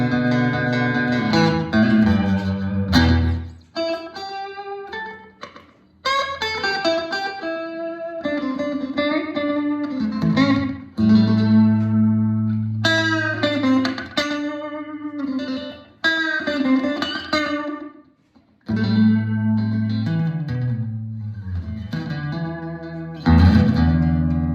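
Electric blues played on a 2013 Fender Stratocaster American Standard through a small Fender tube amp, with bending lead lines over chords, moderately loud and alone, with brief pauses between phrases.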